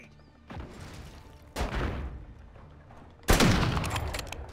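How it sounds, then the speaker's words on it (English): Grenade explosions in a video game: three sharp, booming bursts spaced a second or two apart, the last one the loudest and longest, each decaying into rumble. "Throwing grenade."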